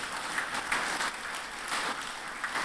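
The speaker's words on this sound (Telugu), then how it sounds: "ఒక్కసారి గట్టిగా క్లాప్స్ కొట్టుకుందాం" An audience at a three-day meditation gathering in Gudivada claps loudly and continuously, a dense crackle of many hands with small surges in intensity. No one speaks over it.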